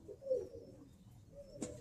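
Birmingham Roller pigeons give a couple of soft, low coos, close by and quiet, with a brief flutter-like burst near the end.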